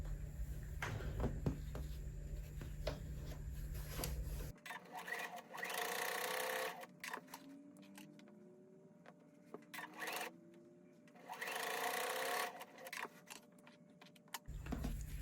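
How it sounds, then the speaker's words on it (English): A sewing machine stitching a quarter-inch seam on a purple piece of a quilt block runs in steady bursts of rapid, even whirring, with short pauses and faint handling sounds between runs, fairly quiet and close. "I'm going to sew this purple piece right here, 1/4-inch seam."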